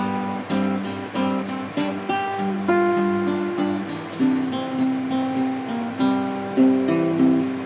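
Guitar plays the picked intro passage of a song, single notes ringing out over chords in a steady, moderately loud rhythm with no voices.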